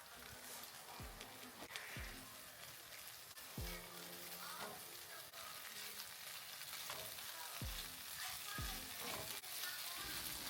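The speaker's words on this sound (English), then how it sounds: "We'll stir fry the beef on both sides until it is tender and fully cooked." Marinated beef stir-fries in a pan with a constant crackling sizzle, broken by occasional clanks and scrapes of the utensil against the pan. The sound is close but fairly quiet overall.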